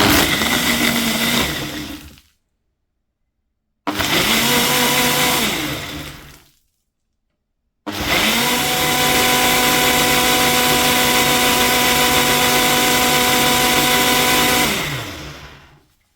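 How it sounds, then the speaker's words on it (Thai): A blender whirs through a mandarin smoothie: two short loud runs with silent gaps, then one long steady blend of about seven seconds that winds down at the end, with no talking. "แล้วเราจะปั่นกันนะคะ ก็ปั่นแค่หนึ่งนาที"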